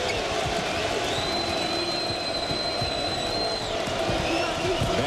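A loud, sustained roar fills a basketball arena during a Duke Blue Devils at Virginia Cavaliers game, with sneakers squeaking and a commentator talking over the steady cheering.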